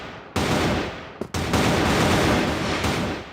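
Rifle fire during a CrossFire esports match, a loud close burst of continuous automatic shots, briefly broken by a short gap, then resuming in a sustained dense rattle with no voices.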